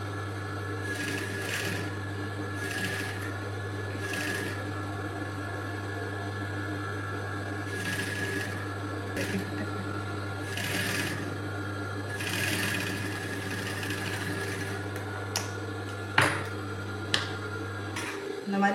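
A sewing machine stitches piping onto a garment neckline seam. It runs in short repeated bursts of rapid stitching over a constant low electrical hum, with a few clicks and knocks toward the end.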